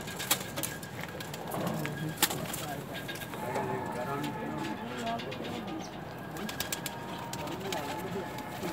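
Pigeons, Dab and Ferozpuri cross birds, cooing softly in repeated low throaty phrases against a steady background hum, with a few sharp clicks and people talking nearby.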